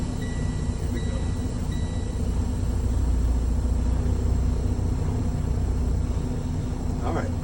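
Tractor-trailer creeping forward a few feet during a brake check, a steady low engine rumble and drone throughout, with a faint squeal near the end.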